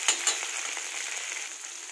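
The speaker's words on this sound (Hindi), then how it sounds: "तेल गर्म होने के बाद हम थोड़ा थोड़ा पनीर को तेल में डालकर हल्का भुन लेंगे" Paneer pieces fry in hot oil in a kadhai with a steady, close hiss, opening with two sharp clacks as pieces go in or the utensil touches the pan.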